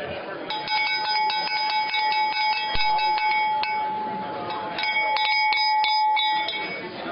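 A hand bell is rung repeatedly in quick, ringing strikes over a steady murmur of a crowd chatting at a meeting, with a brief pause midway before another burst of ringing.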